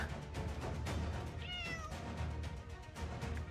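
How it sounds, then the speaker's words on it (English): A cat meows once in the Arknights video game, a short rising-and-falling cry over a dense, steady backdrop of game music and ambience. "You freaky ass cat."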